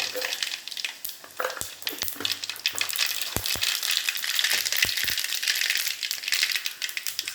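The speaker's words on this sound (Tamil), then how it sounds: "எண்ணெய் காஞ்சிடுச்சு கடுகு" Mustard seeds spluttering and popping in hot oil for tamarind rice, with sharp irregular pops and crackles scattered over a continuous sizzle, close and moderately loud.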